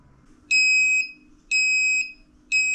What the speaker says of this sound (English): Okay, maybe I shouldn't have connected this buzzer.